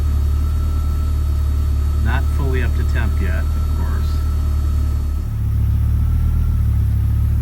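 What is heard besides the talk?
Audi UrS4 engine idling and running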